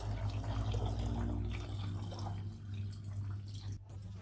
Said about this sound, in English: Now we can pour it into the fermentation tank.